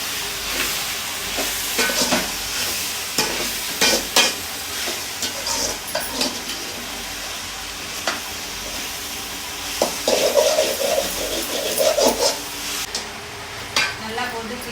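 Country chicken curry stirred in a pan on the stove, with continuous sizzling and bubbling under repeated scraping strokes and metal knocks, loud and close throughout.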